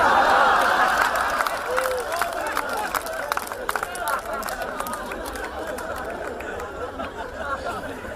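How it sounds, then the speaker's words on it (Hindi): Audience applause at a Hindi comedy poetry gathering (hasya kavi sammelan), a dense wash of clapping strongest at the start and tapering into crowd chatter and murmuring over about eight seconds. "आपकी तालियां मुझे खोल रही है"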